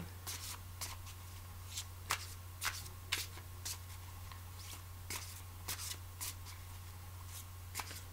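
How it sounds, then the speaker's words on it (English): Tarot cards being shuffled in quick, crisp riffles and snaps, repeated many times in an irregular rhythm over a low steady hum, close and fairly quiet. "we need a bit of a shuffle for Gemini"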